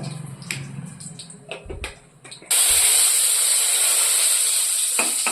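Mustard seeds in hot oil: scattered faint pops and crackles at first, then a sudden loud, continuous hissing sizzle takes over and holds to the end.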